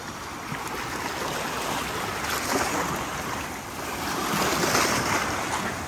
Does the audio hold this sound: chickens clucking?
no